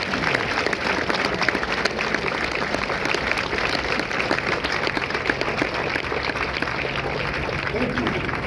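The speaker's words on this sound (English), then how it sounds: "Ladies and gentlemen, a round of applause." Crowd applause at a Marine Corps recruit graduation, a sustained dense roar of many people clapping that stays at even strength throughout, fairly loud, with some voices mixed in underneath.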